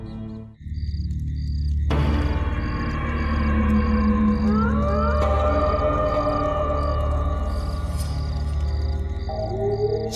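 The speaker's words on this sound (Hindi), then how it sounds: "किसी लोमड़ी की रोने की आवाज लगती है।" A fox cries at night in a dramatic scene: a drawn-out, wavering wail with rising and bending tones over a steady low drone and repeating high pulses, sustained and fairly loud.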